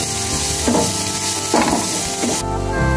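Garlic sautéing in a pan as a simple dish cooks: a steady, loud oil sizzle with occasional rustling stirs and scrapes, continuing throughout with no talk.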